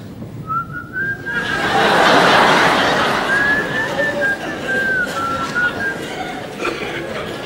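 A man whistles a wavering, sustained tune during a comedy show, the clear melodic whistle running for several seconds over a low background murmur of the room with a few light chuckles.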